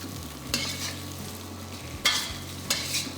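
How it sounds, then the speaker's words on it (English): Pork chops tossed with green spring onion tops in a hot pan, a soft steady sizzle broken by three sharp scraping tosses, close and quiet with no voices. "Add in the green parts of the spring onions. And give it another toss."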